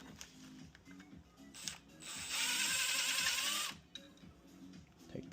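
A ratchet spins a stud out of an Audi 3.0T timing cover. Quiet clicking builds into a loud, steady mechanical whir for about a second and a half, then drops back to scattered clicks.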